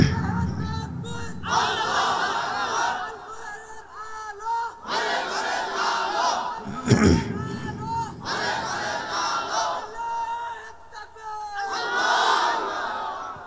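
A crowd at a religious gathering in Kurigram shouts takbir in repeated loud massed bursts, each roaring cry rising and falling with short pauses between.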